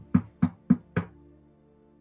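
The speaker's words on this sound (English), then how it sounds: "he's gonna knock on the door." Four evenly spaced knocks on a wooden door, close and crisp, followed by silence and the start of a fifth knock at the very end.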